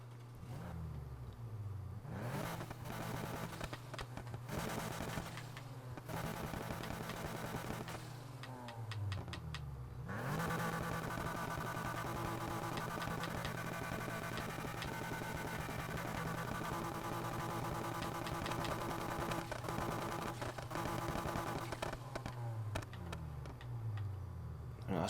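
A Honda Civic race build's engine and exhaust rev and drone steadily in Need for Speed Heat, pitch rising and falling with bursts of throttle and clicky ticking noises layered on top.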